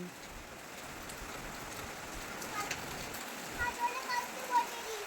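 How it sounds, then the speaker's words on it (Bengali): Heavy rain falls in a steady, dense hiss, with a few louder splashes and patters near the end. Faint voices may sit under the downpour. "কত জোর বৃষ্টি হচ্ছে, দেখো পুরো সাদা হয়ে গেছে।"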